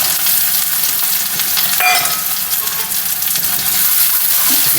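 Onions sizzle and fry hard in hot coconut oil, a loud, steady hiss with stirring scrapes throughout, close to the pan and with no voices over it.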